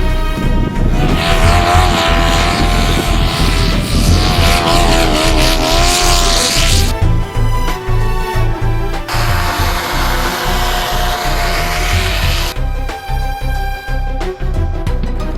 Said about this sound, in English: Cody James from Oregon, riding Outlaw Motorsports Apex, the Boondocker side mount turbo